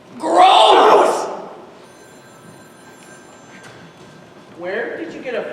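An old-style telephone bell rings loudly in a short burst, falls quiet, then rings again more faintly.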